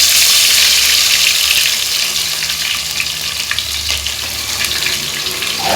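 Crushed garlic and ginger sizzle loudly in hot oil with whole garam masala spices for a village-style chicken curry, a steady close frying hiss with faint stirring and scraping throughout and no talk.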